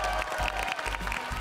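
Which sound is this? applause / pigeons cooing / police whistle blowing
applause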